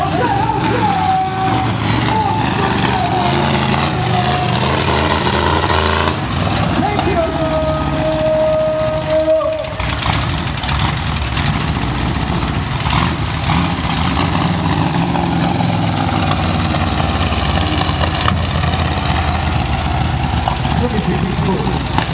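A monster truck engine roars at a Crazy Cars stunt show in Poreč, a loud continuous rumble that swells and drops, with a crowd and a voice talking over it.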